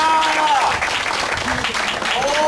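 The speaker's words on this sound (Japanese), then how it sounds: "ちょっとみんなスイタンに拍手で" An audience applauds warmly at a live stage event, with dense, steady clapping throughout while a voice talks over it.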